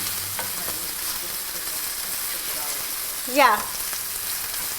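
Chicken and garlic fry in a stir-fry pan with a dense, steady sizzle throughout, while a voice speaks briefly near the end.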